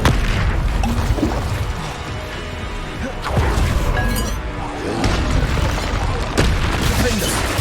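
Spell explosions in Hogwarts Legacy, a dense run of loud booms, crashes and glassy clinks from magical combat, repeating in bursts every second or so.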